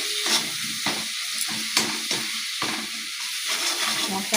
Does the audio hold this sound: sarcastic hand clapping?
no